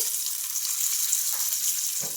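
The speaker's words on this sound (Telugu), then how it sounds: "ఇంకా ఇందులోకి పోపు అయితే వేసుకుంటున్నానండి" Urad dal, chana dal, cumin, mustard seeds and curry leaves sizzle in hot oil in a kadai for a chutney tempering, a close, steady frying hiss with faint crackles and no voices.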